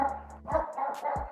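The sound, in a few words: dog barking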